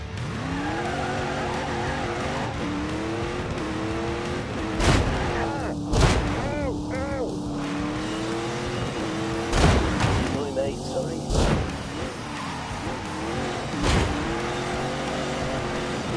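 Race car accelerating hard at full throttle on a track, engine howling and rising through gears with sharp bangs and tire squeals, loud and close, with someone speaking over it.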